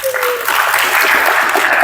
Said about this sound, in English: I would also like to clap for you all for this